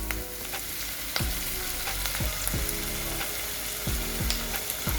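Tomatoes fry in a pan with onion and curry leaves for hesar kalu, a loud steady sizzle broken by repeated rhythmic scraping strokes of a spatula, close up and without talk.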